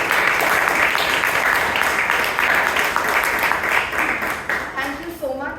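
Audience applause at a Toastmasters club meeting in Bangalore honouring speakers and role takers, a steady dense clapping that fills the room at a constant level, with a voice breaking in near the end.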